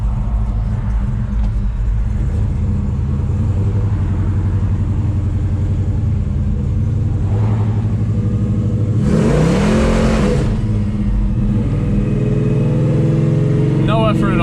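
A 1970 Chevelle with a 502 big-block engine cruises with a deep, loud, steady rumble, its pitch swelling briefly as it revs, while someone talks over it.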